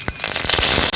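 Curry leaves hit hot oil in a pan already holding mustard seeds, cinnamon, a bay leaf and fennel. They burst into a brief, loud flurry of crackling pops and spits.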